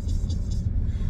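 Low rumbling engine of a motor vehicle passing nearby on a city street, a steady heavy drone with faint hiss above it, loud and continuous throughout with no one talking.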